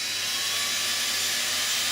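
A power drill with a 2.5 mm metal bit bores a pilot hole through a PVC door edge, giving a steady, loud, high-pitched whine that holds evenly throughout.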